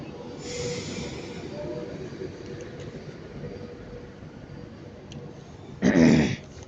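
Cross Country unit 220124 pulls out of Stockport station on the service to Manchester Piccadilly with a steady rolling rumble and brief wheel squeals, then a short, louder burst of rail noise near the end.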